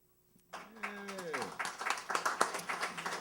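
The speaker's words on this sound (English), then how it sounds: "Keep the applause going" Applause and clapping from a church congregation rise after a brief quiet start and continue steadily, with voices and a falling vocal sound mixed in near the beginning.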